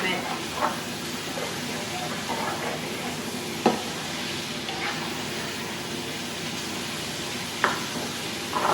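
Beef sizzles steadily in an oiled pan, a continuous bright frying hiss broken by a few sharp clacks of stirring, with a voice speaking over it.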